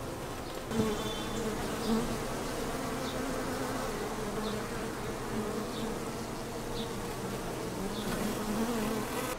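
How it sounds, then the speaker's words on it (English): Steady, dense buzzing of many honeybees swarming close by at an urban garden beehive in Brooklyn, a continuous drone with no talking. "a group of bees just clustered around this one"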